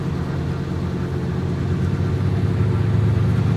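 Lamborghini Centenario Roadster idling, a steady low, throbbing engine burble with a slight rise in loudness toward the end, close and alone without speech.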